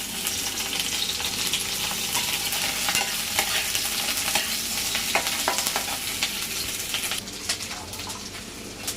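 Chopped onions and black cumin frying in a pan, a strong, close sizzle with frequent crackles and spatula scrapes. The sizzle eases slightly near the end.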